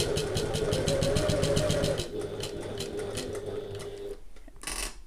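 A sewing machine runs close and loud as it sews a long basting stitch on a handbag, a steady motor hum with rapid rhythmic needle ticks and a drop in pitch near the end, with no voices.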